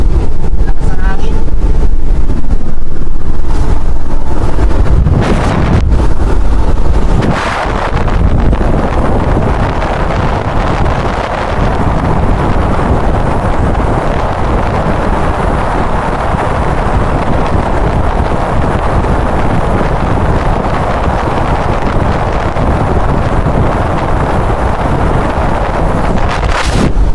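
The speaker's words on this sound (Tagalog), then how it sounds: "Lakas ang hangin." Strong wind roars and buffets steadily around a moving truck cab on the M3 motorway in Hungary, with a louder gust at the start.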